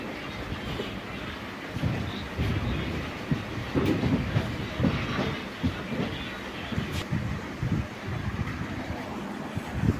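A passenger train runs past Ernakulam Town, heard from inside the coach: a steady rumble with wind noise and irregular clattering thumps from the wheels and car body, fairly loud throughout with no talk.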